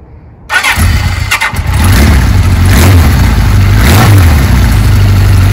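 A 1975 Kawasaki Z1 900 motorcycle fires up after a brief starter crank, then settles into a loud, close, throaty running engine with a couple of revs rising and falling.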